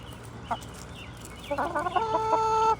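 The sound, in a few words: big rooster eating a tomato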